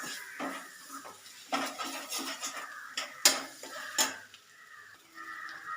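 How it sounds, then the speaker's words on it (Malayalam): A utensil repeatedly scrapes and clinks against a metal pan as spice masala for an egg curry is stirred until it changes colour, with irregular knocks and a faint sizzle underneath. "നല്ലവണ്ണം ഒന്ന് വഴറ്റി കൊടുക്കാം, കളറൊക്കെ ഒന്ന് മാറി കിട്ടുന്നത് വരെ"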